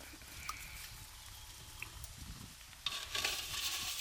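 An egg mixture is whisked in a bowl with pepper, turmeric and salt for an egg masala gravy: soft, faint scraping and liquid swishing that grows louder toward the end, with no talking.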